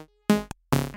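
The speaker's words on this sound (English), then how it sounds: "I'm going to use my Moog synths to create a beat that sounds like this." Short synth beat played on Moog synthesizers: two bright, harmonic chord stabs separated by a brief percussive hit, loud and alone with no voice.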